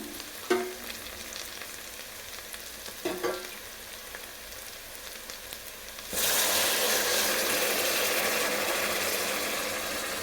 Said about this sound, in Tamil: இப்போ மூணு கிளாஸ் தண்ணி ஊற்றிக்கிறேன்